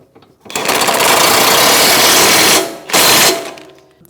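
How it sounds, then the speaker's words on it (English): A 21 mm socket drives a lower rear shock mounting bolt tight on a 2016-2025 Chevrolet Malibu, heard as a loud, close mechanical whir lasting about two seconds, a brief pause, then a shorter second burst. "take our 21 millimeter wrench and socket and snug that lower mounting bolt up"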